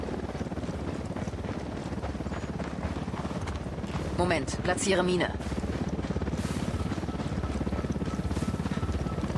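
A helicopter in the video game Ghost Recon Wildlands drones with a steady rotor hum throughout, close and constant beneath someone speaking German, with a brief burst of voices and effects in the middle.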